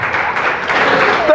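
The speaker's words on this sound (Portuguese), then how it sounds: "Vamos aplaudir a Jesus." Church congregation clapping together, a dense burst of applause lasting just over a second, loud and close.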